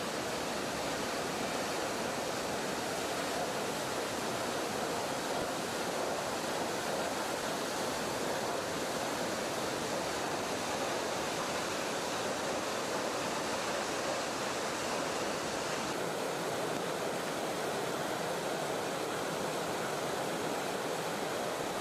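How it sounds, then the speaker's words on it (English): Middleham Falls, a large waterfall dropping about 60 meters on the island, pours with a dense, steady roar of rushing water that stays loud and unbroken throughout, heard alone without any voices. "Middleham Falls is the island's largest waterfall, with water loudly spilling over the falls some 60 meters down."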